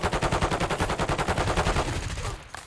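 Rapid, evenly spaced gunshots crack out in a sustained burst during a Warzone match, loud and close, then taper off near the end with no talk over them.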